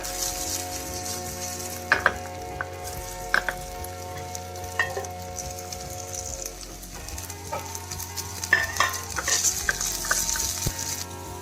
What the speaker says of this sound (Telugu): అల్లం ఎర్రగా వేయగాలి తర్వాత పచ్చిమిర్చి వేసుకుందాం